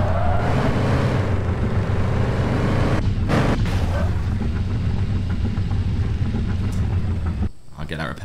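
Steady, loud rumbling drone of a Lamborghini car engine in a video game, holding nearly constant before dipping briefly at the very end.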